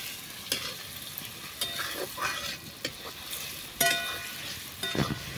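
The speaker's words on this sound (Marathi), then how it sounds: "छान टोमॅटो सुद्धा एकदम व्यवस्थित भाजून घ्यायचा" Tomatoes roast in a pan for mutton sukka cooked over a wood-fired stove, with scraping stirs at intervals over a continuous sizzle.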